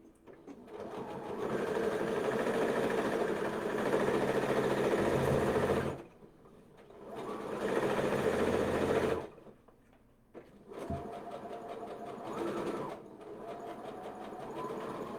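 Three bursts of sewing machine stitching on a small spellbag, each a few seconds of steady motor whirring separated by short pauses, the last run softer and more broken, as in backstitching back and forth.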